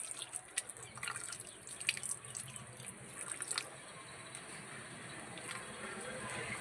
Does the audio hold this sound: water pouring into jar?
yes